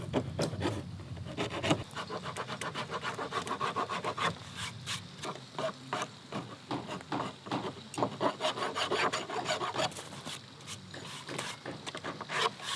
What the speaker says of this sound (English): Now I'll take my file.